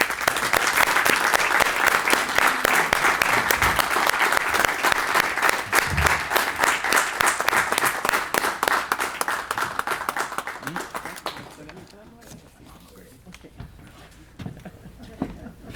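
An audience at a book presentation applauds to welcome the speaker, loud continuous clapping lasting about eleven seconds before it dies away to soft room noise and faint voices.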